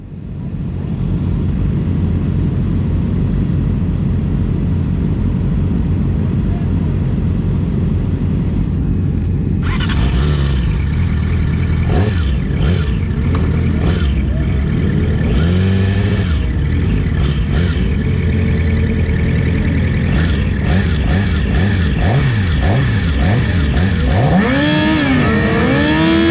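2020 Yamaha R6 motorcycle racing on track at Podium Club during a race, a loud steady engine drone that jumps sharply to high revving, with repeated rising and falling sweeps through gear shifts, close and continuous.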